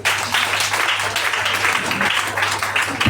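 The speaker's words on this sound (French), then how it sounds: "Acclamons Jésus" A church congregation applauding in praise during a prayer service, a dense, loud, continuous wash of clapping that fills the whole moment with no clear speech on top.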